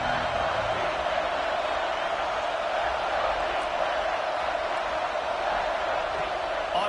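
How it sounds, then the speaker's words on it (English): Home crowd in a CFB25 college football video game, a steady dense roar of cheering that holds at a constant level throughout, with no breaks. "Man, this crowd really affecting the football game."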